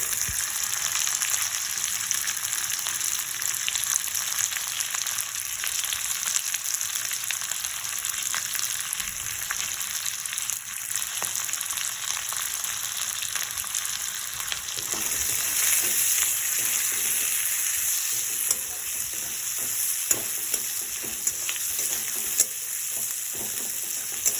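Chopped onion fries in a pan with a continuous close sizzle, and intermittent stirring scrapes become busier in the second half, with no voices.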